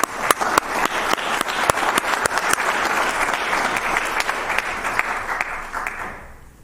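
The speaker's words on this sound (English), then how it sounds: "Just want to give a round of applause to that." Audience applause fills a city council meeting chamber, a steady burst of many hands clapping with sharp individual claps standing out, holding level before tapering off at the end.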